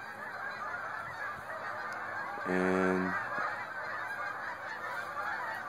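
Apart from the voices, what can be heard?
geese honking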